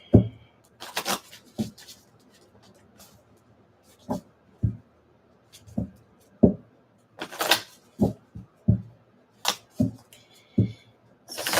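Tarot cards reshuffled during a live reading: crisp riffling and slapping bursts recur in irregular clusters, close and fairly loud, with quiet pauses between and no talking.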